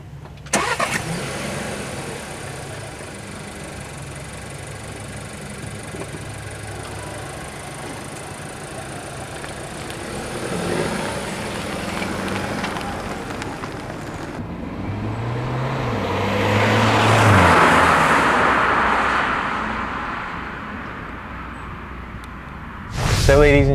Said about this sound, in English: now let's go for a drive in the 2019 Seat Leon estate